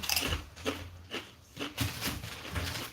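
Homemade tortilla chips crunch in a run of bites and chews, each crisp burst close to the mic, spaced irregularly with faint background noise between.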